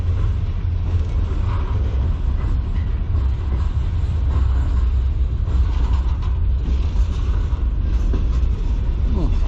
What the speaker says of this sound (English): I hear an additional rumble behind this train.